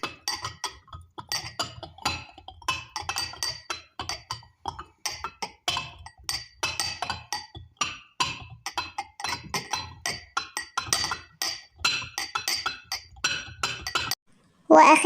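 Dishes and glasses being washed by hand, a steady run of close clinks, clatters and knocks of crockery and cutlery with brief pauses, no voices heard.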